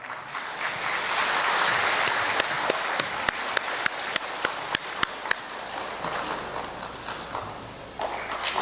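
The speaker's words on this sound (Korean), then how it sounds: "올라오실 때 박수로 맞아주시기 바랍니다." Steady applause rises from an audience at a forum as the chairman of the Korean Christian Elders' Association walks up to give a welcoming address. A dense, even patter of clapping, with a few sharper individual claps standing out near the middle.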